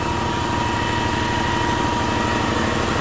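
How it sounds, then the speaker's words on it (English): A rebuilt Honda Civic EF sedan engine idles steadily, a continuous even hum with a light exhaust burble and faint whine, close and unbroken, with no voices. "The only thing I can hear is a little bit of exhaust noise."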